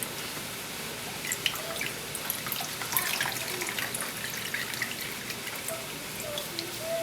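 Scattered drips and trickles of water falling from wrung-out zucchini noodles in a kitchen, quiet and irregular, with no talk.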